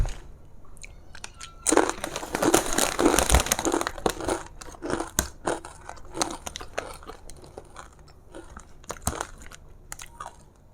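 Tunisian harissa ridge potato chips crunched close up, with loud bursts of crisp chewing and bites mixed with crinkling of the plastic snack bag, followed by quieter intermittent crunches and rustles.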